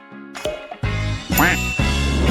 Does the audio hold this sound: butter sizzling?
no